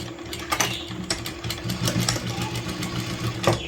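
A home sewing machine runs steadily for several seconds, stitching thread piping onto a blouse, its motor hum carrying a quick mechanical needle rhythm at close range, with no talk over it.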